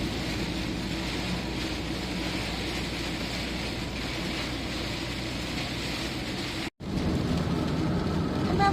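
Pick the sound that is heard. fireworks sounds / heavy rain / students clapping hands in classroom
heavy rain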